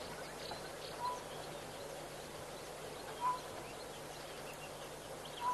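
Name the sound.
Egyptian geese chattering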